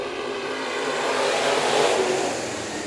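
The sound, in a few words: mixed mod race cars starting a dirt track heat race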